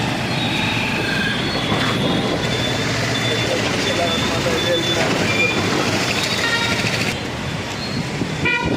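A metro train rumbles and squeals along the rails with high-pitched wheel whines and a short toot, while people talk nearby.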